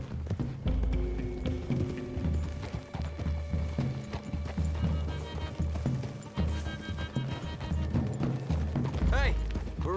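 Horse hooves clip-clopping in Red Dead Redemption 2 as riders move through trees toward a clearing, a steady rhythmic trot with a brief whinny near the end, mixed with game ambience and background voices.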